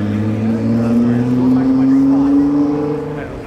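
A McLaren Senna supercar accelerates hard, its loud engine note climbing steadily in pitch before easing off, with voices nearby.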